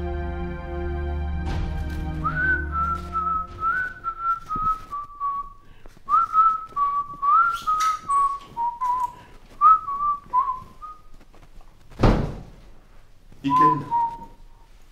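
A man whistles a melodic tune in short phrases while slicing okra, the whistled notes close and clear, with a brief word spoken and a sharp knock partway through.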